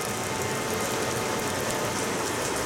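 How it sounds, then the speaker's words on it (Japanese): Steady rain falls in the Okutama mountains, a dense, even hiss of drops on surfaces that carries on without a break and holds at a moderate level. "恵みの雨ですね。"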